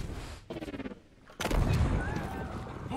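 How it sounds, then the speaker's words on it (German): A wall blown open in Journey to the Savage Planet: after a short rhythmic mechanical pulsing, a sudden loud blast hits and rolls into a sustained rumbling debris wash, close and full-bodied, with a faint tonal whine over the tail. "Ah, so eine Wand zum Explodieren bringen."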